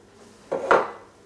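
Carrots are tipped into a casserole pot of boiling liquid on the stove for a blanquette, giving one brief close clatter and splash that lasts about half a second.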